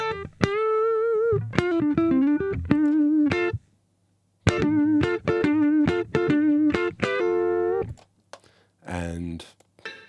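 A dry, unprocessed electric guitar DI signal: clean, thin plucked notes and bends in short melodic phrases separated by brief silences, ending with a few choppy strums.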